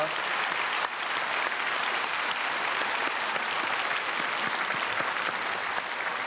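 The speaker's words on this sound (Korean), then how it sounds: "박수로 축복하겠습니다." A church congregation applauds the choir after a Sunday worship hymn, dense sustained clapping from a large crowd, loud and even throughout.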